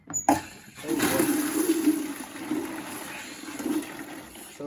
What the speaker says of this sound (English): So there's the water.